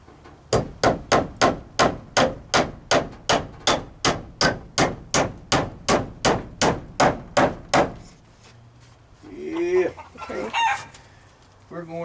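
A hammer drives nails into boards on a chicken coop under repair, about eighteen loud, evenly spaced strikes in quick succession, followed by a pause and then people talking.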